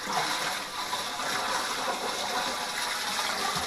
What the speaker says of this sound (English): He's filling it up with water so that he can do the manual.